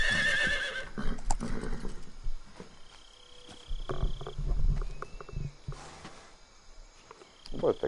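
Horse neighing in a video game, Metal Gear Solid 3: Snake Eater on PS2, with short whinnying calls rising over scattered game sounds and rustle, fairly close and moderately loud, with no talking.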